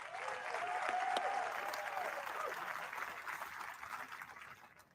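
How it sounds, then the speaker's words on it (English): A crowd at an outdoor Veterans Day parade applauds the veterans in attendance, a broad, fairly distant wash of clapping that swells early and slowly fades, with a faint whistle riding through it. "Let's give them another round of applause."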